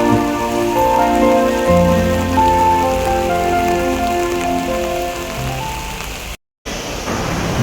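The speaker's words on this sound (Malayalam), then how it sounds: "ഭയങ്കര മഴ ഭയങ്കര മഴ" Heavy rain pours down steadily, a dense drumming hiss on a surface that cuts out briefly near the end before resuming.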